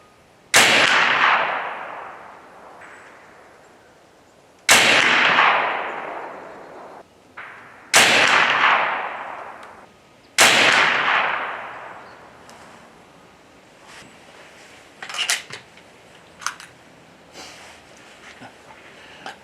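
An AEA Challenger Elite 357 air rifle firing JSB pellets at a range, four loud close sharp cracks, each with a long ringing decay, spaced a few seconds apart, followed by fainter knocks and handling noises.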